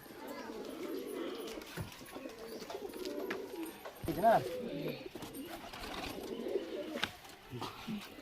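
Pigeons coo softly at low pitch in a loft of high-flyer Kaldom pigeons, with repeated murmuring calls through the whole stretch. Background noise, a few knocks and a brief louder sound sit around the birds.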